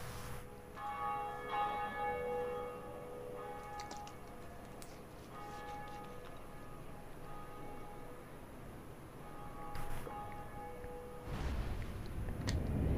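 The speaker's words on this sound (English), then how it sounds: "That's the first bell." Deep church bell tolls ring out in Dark Souls, a few spaced strikes with long humming decay over a steady ambient drone, fairly distant and faint, with a rough rumble near the end.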